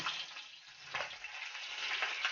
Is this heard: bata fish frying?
yes